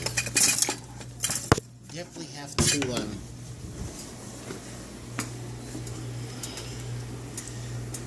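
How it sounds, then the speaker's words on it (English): A pot being stirred on a stove, a few sharp clinks and knocks of a utensil against metal at the start, then quieter scraping while a person talks nearby. "I've got some stirring to do."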